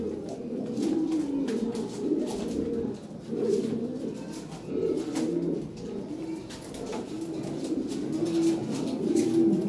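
Large white Lahore siraji fancy pigeons, a pair sitting on eggs, coo in repeated low, throaty phrases, steady and close, each call swelling and fading in a regular rhythm.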